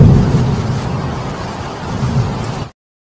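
Heavy rain pours with deep rolling thunder rumbling underneath, loud and steady, then cuts off abruptly into silence.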